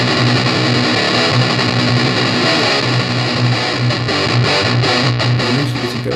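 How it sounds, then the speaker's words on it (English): Electric guitar played through the NUX Amp Force 'Big Metal' extremely high-gain simulated amp, a dense, saturated distorted wall of chugging riffs that stays loud and continuous throughout. "It's just an all-out, extremely high gain simulated amp."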